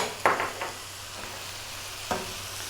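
A big piece of butter hits a hot pan with prawns, giving a soft sizzling hiss with a few light clatters of utensils against the pan, close and with no talking.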